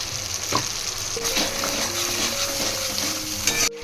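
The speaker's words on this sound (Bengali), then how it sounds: "এবার এতে আমি একটু টক দই দিয়ে দিচ্ছি ফ্যাটানো" Masala for chana masala fries steadily in a pan after sour yogurt goes in, a continuous sizzle broken by clinks and scrapes of stirring, with faint tonal kitchen sounds behind and no talk.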